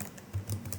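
A few soft, close keystrokes on a computer keyboard while a Hadoop command is entered in a terminal on Windows, a brief quiet clatter with no voices.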